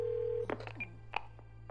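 A phone dialed to call its own number: a short steady tone, then a quick run of tonal beeps and clicks, quiet and close against a low background hum.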